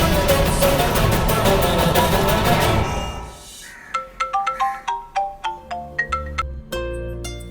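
Loud dense music gives way to a bright electronic phone ringtone, a quick melodic run of chiming notes repeating in steady rhythm.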